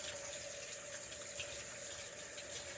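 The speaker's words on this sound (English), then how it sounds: "What I do is I run the water and I warm my hand up" Water runs steadily from a kitchen tap into a sink, a continuous close hiss and splash with no talking.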